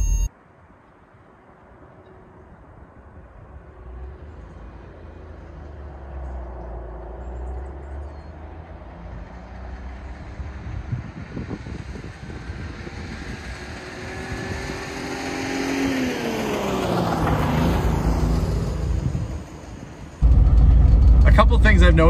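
A neglected Citroen SM, running rough on a full tank of bad gas, idles and then pulls away, its engine building into a rising, rumbling rev. The sound grows louder before a sudden shift near the end.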